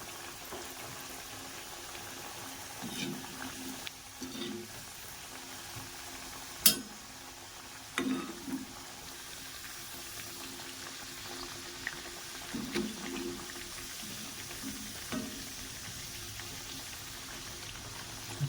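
Thekua dough pieces, a Bihar khasta sweet, bubble and fry in hot oil with a steady, soft boiling fizz, broken now and then by brief clinks and small splashes as pieces go in.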